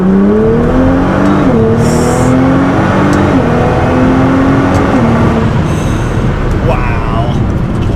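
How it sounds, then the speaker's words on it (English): A tuned Nissan GT-R accelerates hard, its loud engine climbing steadily through the revs with brief dips at gear shifts, close and continuous throughout. "So to now talk about the GT-R as far as the performance goes, we'll do a nice acceleration and some sharp turns with it."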